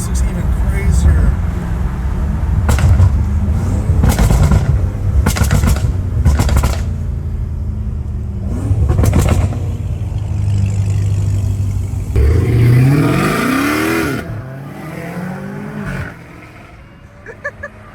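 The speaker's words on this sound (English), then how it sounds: "Supercharger wine sounds crazy." A supercharged BMW M5 Competition accelerates in bursts of engine revving, with a rising whine sweeping upward near the end before the noise fades away; people talk throughout.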